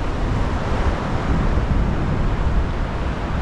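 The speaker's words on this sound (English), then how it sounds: "The water is flying up the beach, but that's what you'd expect on a big tide like today." Big-tide waves surge up Merthyr Mawr beach in a loud, continuous broadband roar of surf mixed with wind buffeting the microphone, steady with no pauses and no voices.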